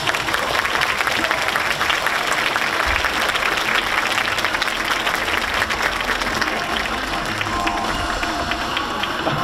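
Sustained applause from an audience at an anime preview screening for the TV series MF Ghost, dense steady clapping filling the hall with a low crowd murmur.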